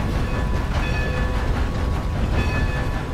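A train runs along the tracks in the video game Red Dead Online, a loud, steady rumble with rhythmic clatter of the cars, continuous throughout with no voices.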